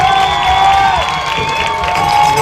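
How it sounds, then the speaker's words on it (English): An Irish football crowd stands and cheers the Irish defense at a high school game, a loud, continuous roar of shouts and applause with whistles and high voices threaded through it. "The Irish crowd standing and cheering the Irish defense on"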